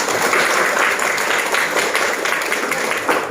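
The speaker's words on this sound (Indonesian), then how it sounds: "Jadi tepuk tangan untuk kita semua" Classroom group applause, a continuous even wash of many hands clapping together in a room, loud and steady from start to finish.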